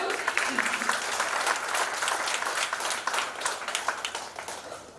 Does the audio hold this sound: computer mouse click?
no